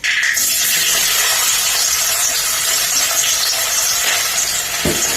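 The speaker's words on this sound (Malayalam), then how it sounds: "അരിഞ്ഞു വെച്ചിരിക്കുന്ന ഉള്ളിയിടാം" Chopped onion goes into hot oil where mustard seeds have just popped, making a loud, continuous, close-up sizzle that holds steady with a brief clink near the end.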